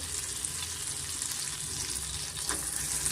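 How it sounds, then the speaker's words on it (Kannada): Onions fry over a medium flame in a pan with melted butter and ginger-garlic for a methi matar gravy, producing a steady, close sizzle with a brief stir-like rustle partway through. "ಈರುಳ್ಳಿ ಸ್ವಲ್ಪ ನಾವು ಫ್ರೈ ಮಾಡ್ಕೊಳ್ಳೋಣ"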